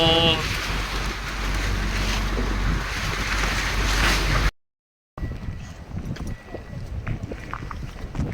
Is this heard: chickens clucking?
no